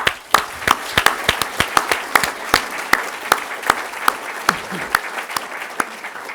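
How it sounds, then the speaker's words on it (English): Audience at the NZOSA 2010 open source business conference gives a round of applause for Ponoko, a loose scattering of distinct hand claps repeating steadily without any talk. "So I'd like a round of applause for Ponoko."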